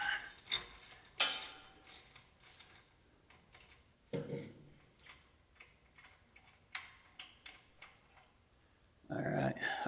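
Hand tools working bolts loose on a Farmall Super H tractor during restoration: a fast run of light metallic ratchet clicks with a few sharper clanks, close by and fairly quiet.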